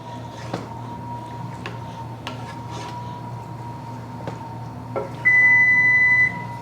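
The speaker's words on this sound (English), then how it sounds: "That buzzer was the oven." A steady electronic oven timer buzzer tone sounds for about a second near the end, over faint background hum and a few light clicks.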